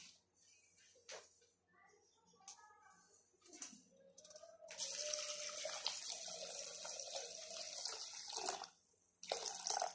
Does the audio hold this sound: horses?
no